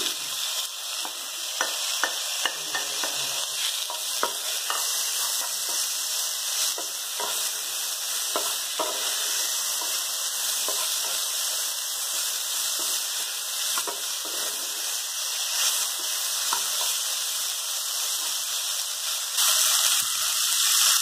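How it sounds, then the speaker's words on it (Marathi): Tomatoes frying with masala in a pan give off a loud, steady hiss and sizzle, broken now and then by short stirring scrapes, with no talk. "आपला हा मसाला छान भाजला टोमॅटो घाला"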